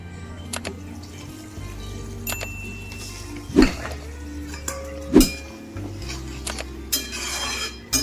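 Small fried fish are stirred in a pan and a lid is set on top, giving scattered metallic scrapes and two sharp clanks over a low stove hum, with no talking.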